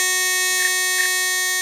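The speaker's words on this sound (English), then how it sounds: "It's buzzing. Come over. We mute. Now that's tagged out and it stays red. We're in trouble. The alarm is tripped." An Ademco MODULARM 130 local alarm unit, a vintage model 875M, sounds a steady electronic buzz after being tripped, a constant tonal drone held loud and close throughout the short stretch.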